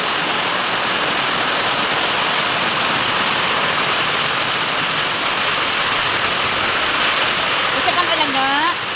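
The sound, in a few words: heavy rain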